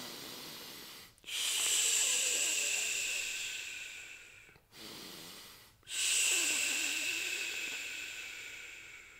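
Slow, controlled breaths during a breathing lesson: long, airy, hissing exhalations that taper off, separated by short pauses, close and alone.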